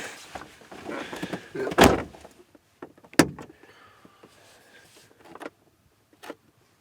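A car door thumps shut, followed a second later by another solid slam, with faint rustling and a soft click between, recorded close by.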